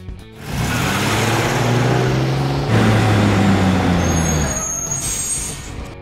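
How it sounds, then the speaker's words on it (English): Deep idling engine of a monster SUV rumbling loud and steady, with a shift to a heavier throb midway and a high hiss of air release near the end, alone without talk. "Monster SUV."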